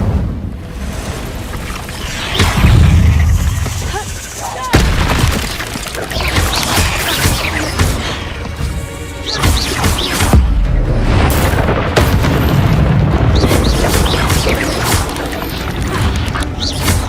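Incendio fire spells are cast in the Hogwarts Legacy game, with loud bursts and whooshing flares repeating over a rumbling, busy background of in-game effects.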